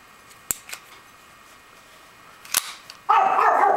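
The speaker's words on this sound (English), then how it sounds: "And the dog is barking." A dog barks off in the distance, with a few sharp sounds early on and a burst of barking at the end, near sharp mechanical clicks from handling a 1934 Beretta 380 pistol.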